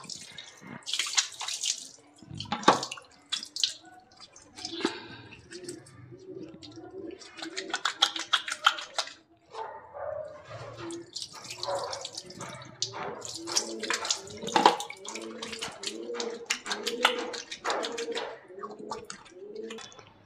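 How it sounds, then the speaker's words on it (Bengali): Water poured from a mug splashes in uneven bursts over hands being washed, fairly close and soft, with dripping between pours and birds faintly audible in the background. "এই মগে করেই জল নিয়ে ধুয়ে নেব।"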